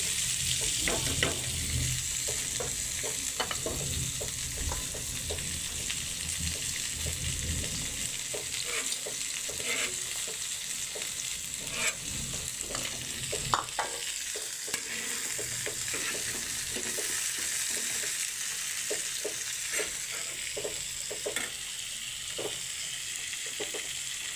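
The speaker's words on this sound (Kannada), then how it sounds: "ಕೆಂಪು ಗೋಲ್ಡನ್ ಕಲರ್ ಬರುವಂಗೆ ಹುರ್ಕೋಬೇಕು" Chopped tomato and onion fry in a hot pan, giving a steady sizzle with frequent stirring scrapes and clicks throughout. The cooking is for a paneer dish, and no one speaks.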